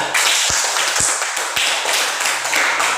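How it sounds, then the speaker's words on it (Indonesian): Small group of people clapping in a classroom-style teaching session, a brief burst of close, fairly loud applause with a few distinct taps standing out. "Ya, tepuk tangan."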